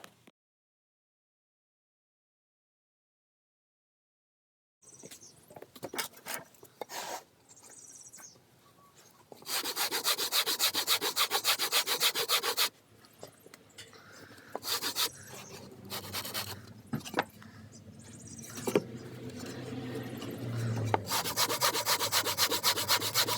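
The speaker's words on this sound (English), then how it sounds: "So I'm shaping the bricks," Stove firebricks have their edges chamfered with a rasp during a Clearview Vision 500 installation, giving close, loud bursts of gritty scraping strokes with short pauses between them and no talking.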